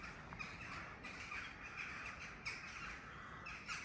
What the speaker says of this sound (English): Crows are still going. How spooky is this?